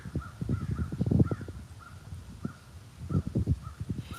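Crows caw repeatedly in short, harsh bursts, some near and loud, others fainter, in an irregular rhythm against light outdoor background noise, with no one speaking.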